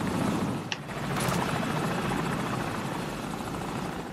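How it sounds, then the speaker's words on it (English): An enemy helicopter in the Modern Warfare video game, during the All Ghillied Up mission, churns steadily and loudly with a dense rotor drone throughout, a brief click near the start. "Enemy helicopter!"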